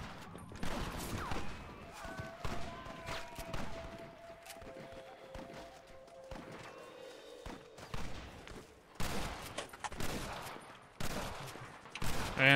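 Gunfire from the Red Dead Redemption video game comes in a string of sharp shots and rapid bursts, scattered irregularly throughout and fairly close, with quieter gaps and a few thuds between them.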